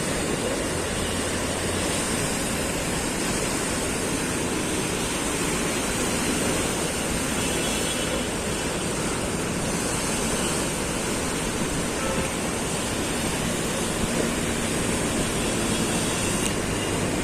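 Heavy, high sea waves break along an Alexandria beach in wintry weather, producing a continuous loud roar of surf that holds steady with no break for the whole stretch.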